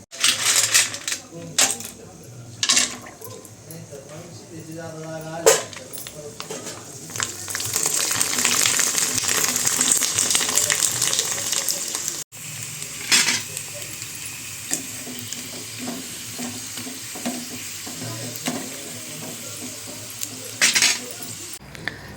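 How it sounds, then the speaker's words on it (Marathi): Pongas, sweet fritters, frying in a pan with a long, loud sizzle in the middle. Metal utensil clinks and scraping sounds come before and after it, and the sizzle carries on more quietly later. "चला मी आता आरोग्य दोषांसाठी पोंगे तळून घेते"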